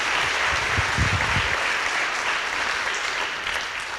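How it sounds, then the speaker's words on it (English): Sustained applause from an audience at a high school awards celebration honoring science award winners, steady and broad throughout with a few louder claps near the start. "All right, give one more round of applause for these Science Award winners."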